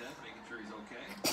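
A single sharp, loud sneeze bursts out right at the end, following a stretch of quiet indoor background sound.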